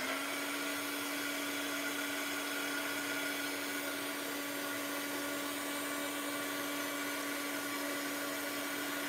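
A heat tool or hair dryer runs continuously at a steady pitch, held at a distance to dry an art journal page, a constant whirring hum with no talking.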